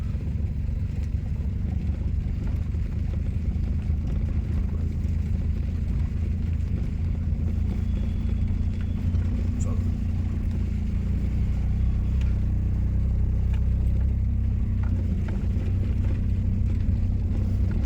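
A car engine hums steadily and rises slightly as the clutch is let out during a driving lesson, a loud continuous rumble with no voices.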